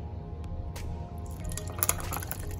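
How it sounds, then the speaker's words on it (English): Coffee poured over ice into a cup, with liquid trickling and dripping, then brighter clinks and crackles of ice cubes toward the end, close and moderately loud with no voices. "Just put a little ice in my cup and just pour it over ice"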